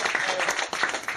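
Brief audience applause at a debate between candidates for provincial youth committee chair, a short burst of mixed clapping from a seated crowd.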